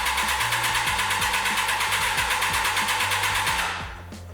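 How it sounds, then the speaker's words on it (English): A Suzuki GSXR 750 motorcycle with a faulty carburetor cranks without firing, a loud, steady, rapid whirring starter drone up close that cuts off near the end. "I can kind of show you just trying to start it up because it doesn't fire up."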